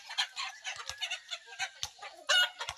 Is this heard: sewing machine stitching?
no